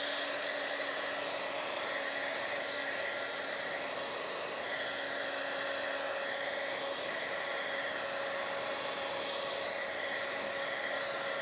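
A hair dryer blows steadily on a freshly inked journal page, a constant close whirring hum that stays even throughout with no talking.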